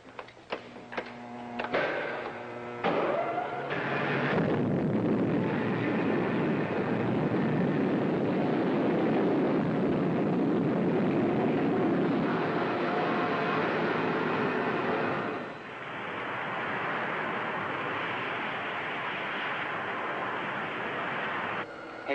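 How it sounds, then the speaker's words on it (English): Roaring rocket blastoff of the Orbit Jet spaceship in a 1950s space serial, a loud sustained broadband rumble that builds after brief clatter and holds steady, easing slightly near the end, with dialogue faintly present. "Okay, Winky, ready for blastoff."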